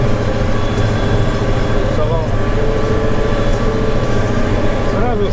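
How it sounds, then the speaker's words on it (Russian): A Kirovets K-742M tractor with dual wheels pulling a 12-metre cultivator across a wet spring field, its engine droning loud and steady under heavy load with no break. "Сразу слышно трактор, как нагрузку дает."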